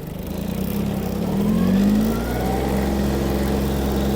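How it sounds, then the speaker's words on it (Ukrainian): A Mitsubishi MT-155 mini tractor engine drones steadily, rising in pitch as it speeds up, a loud mechanical hum close by with no voices. "Миттєво трактор набирає свою максимальну швидкість."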